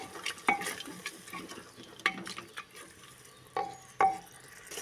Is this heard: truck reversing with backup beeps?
no